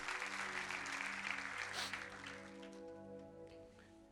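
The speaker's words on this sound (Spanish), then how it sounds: "Denle un fuerte aplauso a Dios por eso." A church congregation applauding at a Spanish-language sermon, with broad sustained clapping that starts loud and slowly tapers, and a steady sustained tone running beneath it.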